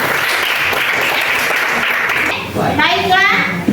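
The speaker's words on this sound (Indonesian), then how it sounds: "Tepuk tangan buat semuanya." Students applaud in a classroom at a teacher-training assessment, a brisk round of clapping that gives way to children's voices chattering and a brief rise of talk near the end.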